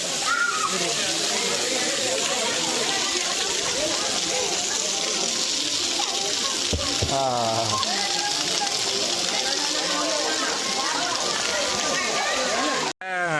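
Water splashes and pours continuously as people rinse their feet and heads at a temple near Tirupati, a close, steady wet gush, with a voice talking over it.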